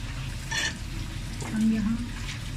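Chicken for Manchurian fries in oil with a steady low sizzle and bubbling, a moderate continuous hiss with brief swells of crackling.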